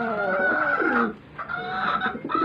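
A hen clucks loudly and repeatedly close by after laying an egg, a rapid run of squawking cackles with a brief pause before the calls resume.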